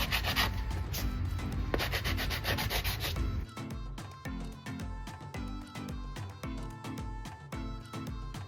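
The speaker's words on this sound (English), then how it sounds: "Gonna lightly sand because it's a little bit lumpy" Light hand sanding over a slightly lumpy finished surface, a steady stream of rapid back-and-forth rubbing strokes, close and moderately loud, harsher and denser at first, then settling into a regular rhythmic scrub.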